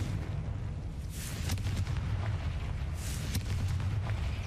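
A Confringo fire spell bursts in Hogwarts Legacy, a loud continuous roaring rumble with a couple of sharper crackling flares riding over heavy low-end boom, sustained for several seconds with no talking.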